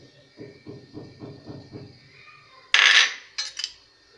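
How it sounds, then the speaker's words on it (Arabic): Spoonfuls of powdered milk added to a bowl while making homemade yogurt: a run of soft rhythmic scraping taps, then a louder hissing pour and two short follow-up bursts, close and without talk. "نضيف حليب بودره"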